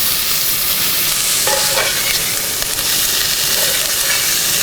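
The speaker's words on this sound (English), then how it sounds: "Just get them sauteed up so they release their flavor, but they don't get soggy." Onions and sauerkraut sauté loudly in a pan at a campsite for German brats, a continuous close hissing sizzle with a couple of brief stirring scrapes and no speech.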